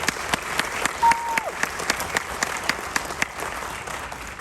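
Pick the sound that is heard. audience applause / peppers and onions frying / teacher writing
audience applause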